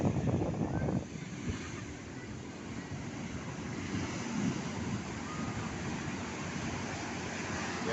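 Ocean surf rolls in steadily at Lampuuk beach in Aceh, a continuous broad wash of breaking waves with wind buffeting the microphone, slightly louder in the first second and then even throughout, with no voices.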